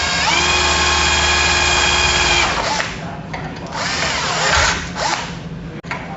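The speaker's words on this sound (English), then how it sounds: "So when you drill, as soon as you see those chips, pull it out and let those chips get out of the way." A hand-held power drill whines steadily while boring attachment holes through a drill bushing for a robot drivetrain, then the motor winds down into intermittent bursts of drilling and clearing, close and loud.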